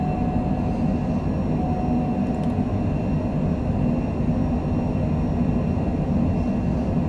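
A small airplane's engine roars through the takeoff roll, departing Sheridan, Wyoming, for Billings, Montana, in calm winds: a loud, steady, unbroken drone that holds close and even throughout.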